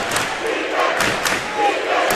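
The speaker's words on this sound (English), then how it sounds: "Gotta love the Pima crowd here." The Pima crowd at the 2021 Arizona 2A girls basketball state final, giving a dense roar of cheering and yelling that fills the gym, with a commentator talking over it.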